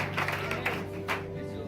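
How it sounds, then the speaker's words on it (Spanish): Church congregation applauding during a worship service, a moderate wash of clapping hands lasting under two seconds over a steady low room hum. "Un aplauso a este Dios de la gloria"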